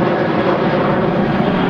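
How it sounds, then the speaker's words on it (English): An airplane flying overhead, a loud, steady engine roar with a broad low rumble that holds evenly throughout without fading. "I don't know if you can hear me over the airplane."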